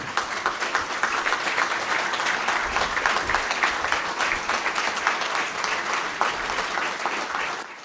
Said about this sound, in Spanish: aplaudan a los compañeros que dieron la vida